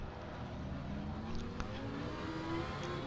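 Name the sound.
GT3 race car engines in Assetto Corsa Competizione video game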